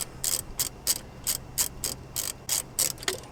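A ratchet wrench clicks in quick bursts, about ten short rapid strokes, while loosening the upper control arm nuts on a 2001-2010 Chevy/GMC truck during a leveling kit install; close and clear, with no talking.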